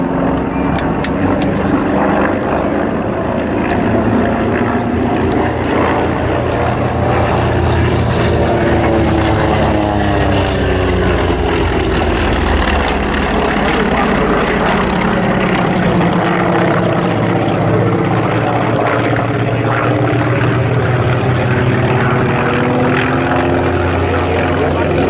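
Grumman Wildcat and Hellcat fighters fly with an F4U-4 Corsair at an air show, their piston engines and propellers giving a loud, continuous droning roar that swells and shifts in pitch as the planes pass.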